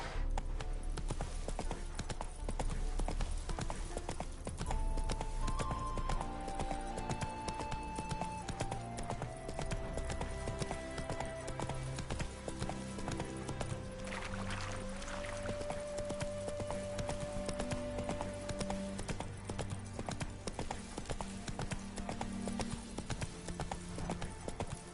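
Horse hooves clip-clopping at a steady gallop in The Witcher 3 video game, a continuous rhythmic beat under a layered orchestral game score.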